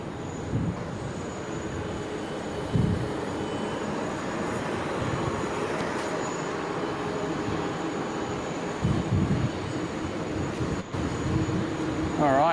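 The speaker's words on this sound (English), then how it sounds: "this is Qantas 15 departing from Brisbane, heading over to our friends in LA" Qantas 15, an airliner, departs Brisbane Airport with a steady, broad engine roar heard from a distance, holding level throughout amid faint outdoor background noise.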